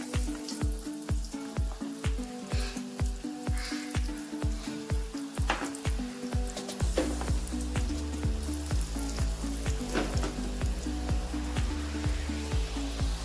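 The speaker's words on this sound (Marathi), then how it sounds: "तेल आपलं गरम झालंय, त्यात आपण भाकरवडी टाकून तळून घेणार आहे." Bhakarwadi fry in hot oil, a steady crackling sizzle running the whole time beneath loud, rhythmic background music.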